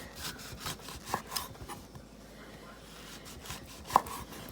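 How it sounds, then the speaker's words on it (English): A knife cuts a single lime into wedges on a board for pad thai, giving a run of close, scraping strokes with a couple of sharper knocks against the board. No one speaks. "We're just going to cut the lime into wedges."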